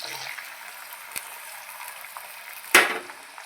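Onion and aloe vera fry in oil in a pan, giving a low, steady sizzle with a soft click early on and a sharper clatter near the end.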